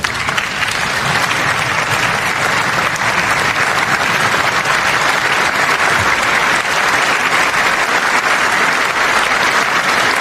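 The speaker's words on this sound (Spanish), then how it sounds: "allí se escuchaba totalmente el aplauso" Sustained, loud audience applause fills a large chamber during a State of the Union address, a dense unbroken roar of clapping from a big crowd lasting about ten seconds with no speech over it.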